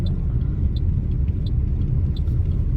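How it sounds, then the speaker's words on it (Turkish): A car is driven on a bare wheel rim after losing its tyre, producing a steady, close low rumble and road roar with faint intermittent higher ticks throughout. "Jantın üzerinde araba sürüyorum şu anda."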